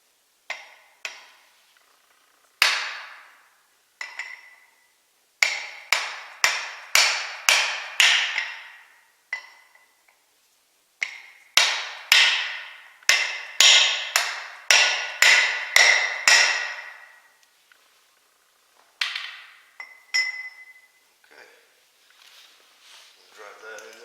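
A socket is hammered to drive an axle seal into a Chevy C10 Squarebody 10-bolt axle, with sharp metallic blows in quick bursts and short pauses, close and loud.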